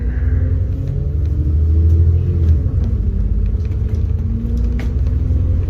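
A route 8 bus pulls away from Wollaston Farm near Stourbridge, its engine giving a steady, heavy low rumble that swells slightly as it gets moving and then holds an even drone.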